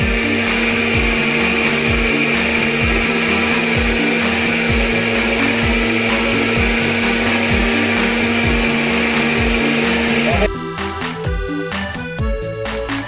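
Loud steady whir of a blender motor grinding for about ten seconds, then the pitch shifts abruptly as the motor slows or changes speed near the end.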